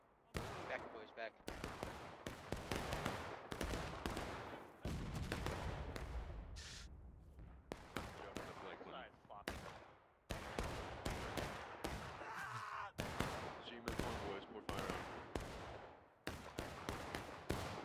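Musket gunfire in the video game War of Rights, with repeated sharp loud shots and crackling volleys in an irregular stream, under shouted voices.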